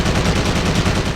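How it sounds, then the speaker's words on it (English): Sustained rapid gunfire in the video game Driver: Parallel Lines, aimed at a helicopter, a dense continuous rattle of shots filling the whole moment, loud and close with no speech. "Now we can kill the chopper with prolonged gunfire."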